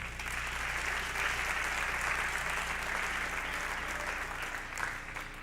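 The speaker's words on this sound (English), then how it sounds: "You guys can give them a round of applause." Steady audience applause at a spring sports awards event, thanking the sponsors, a dense continuous wash of many hands clapping at an even level throughout, with a low hum underneath.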